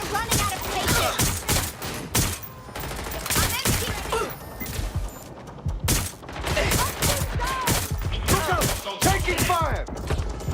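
Gunfire in the video game Watch Dogs: Legion, with loud, rapid bursts of shots that overlap in continuous volleys. Voices break in at times through the shooting.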